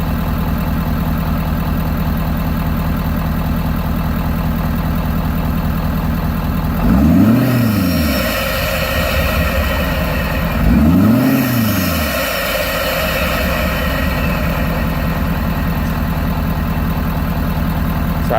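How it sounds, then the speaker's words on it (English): A 2017 Ford F250 with a 6.7 diesel and an S&B cold air intake idles loudly and steadily up close, with two brief revs swelling and falling back about four seconds apart. "I'll set you right here, and then you can hear the intake"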